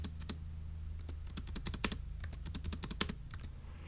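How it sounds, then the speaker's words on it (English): Quick bursts of keystrokes on a computer keyboard as a puzzle solution is entered, clicky taps in irregular clusters, close and clear with no talk. "let's go ahead and type that up"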